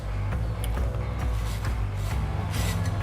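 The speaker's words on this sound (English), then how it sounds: "we give this another quick scrape on the surface to remove any hair that may still be on it" A cleaver scraping the skin of a pork belly to strip remaining hair, a repeated rough rasping rub in short strokes, close and fairly loud with no talking.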